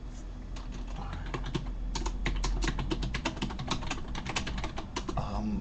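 Rapid, uneven clatter of keys on a computer keyboard while Facebook messages are written, close and continuous with brief pauses between bursts.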